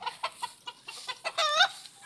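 Kelso and sweater gamefowl roosters kept for breeding, giving a string of short clucks and calls followed by a louder crowing burst, fairly close, with no talk.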